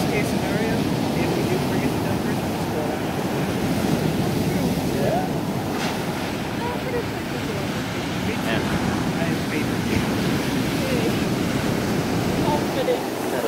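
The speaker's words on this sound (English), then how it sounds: "listening to the sound of the waves breaking or crashing" Ocean waves break on a beach in a continuous, loud roar of surf, with gusty wind buffeting the microphone throughout.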